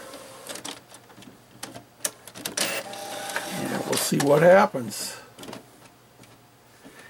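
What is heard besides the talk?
printer printing logo onto decal paper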